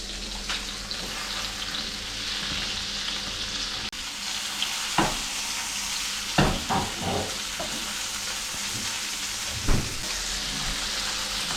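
Dhufish fillets sizzle steadily in a hot frying pan, a constant crackling hiss with a few soft clinks and pops near the pan.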